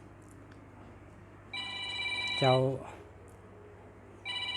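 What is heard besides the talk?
telephone ringing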